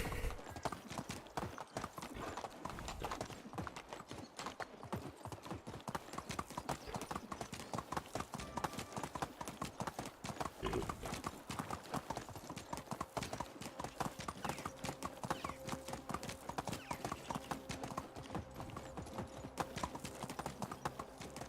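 A horse gallops in the medieval survival game Medieval Dynasty: quick, steady hoofbeats pound continuously and close up, with no voices.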